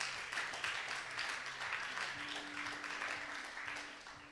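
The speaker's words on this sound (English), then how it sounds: "let's give them a big round of applause" A pitch competition audience at a grand finale in Cape Town claps in sustained, moderately distant applause lasting several seconds, with a low steady hum underneath.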